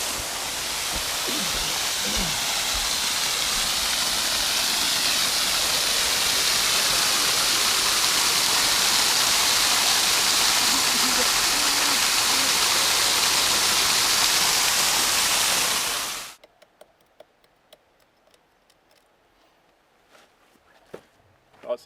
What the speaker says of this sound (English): this is a spring, so it runs all year round